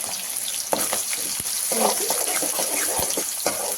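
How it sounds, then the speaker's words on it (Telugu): Green chillies and onions fry in a pan for a curry, giving a steady close sizzle with scattered sharp pops and occasional stirring scrapes throughout. "2 పచ్చిమిర్చి ఇవన్నీ ఫ్రై అవుతున్నప్పుడు ఉల్లిపాయలు"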